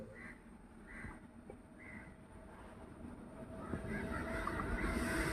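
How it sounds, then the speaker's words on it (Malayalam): The Chennai Central–Mangalore Mail, hauled by a WAP-7 electric locomotive of Royapuram shed, rolls into Vellayil station in Kozhikode with a low rumble that builds steadily, faint horn-like tones early on and a growing clatter of wheels near the end. "ഇതാ വെള്ള റെയിൽവേ സ്റ്റേഷനിലോട്ട് ഇതാ വന്നുകൊണ്ടിരിക്കുന്ന ട്രെയിൻ"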